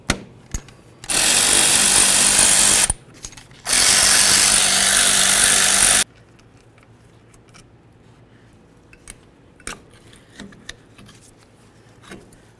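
A power tool removes the brake caliper slider bolts on a Chevy S-10 pickup, with two loud, sustained buzzing bursts separated by a brief pause, followed by faint clicks and handling noises.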